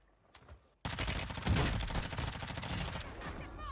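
Heavy gunfire erupts in a shooter video game after a brief quiet lead-in, with dense, loud, overlapping shots and bursts rolling on continuously with no break.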